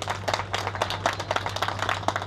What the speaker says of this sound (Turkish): Güçlü bir alkış verelim Bulut için.